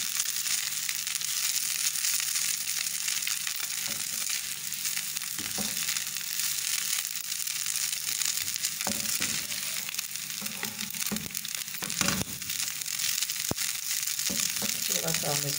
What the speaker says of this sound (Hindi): प्याज के साथ साथ ही फ्राई करेंगे हल्का सा।